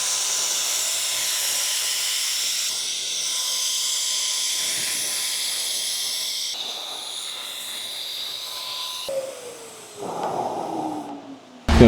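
Another coat of paint is sprayed onto a car hood, a steady, close hiss that runs in long passes with brief breaks between them, ending in a short clatter.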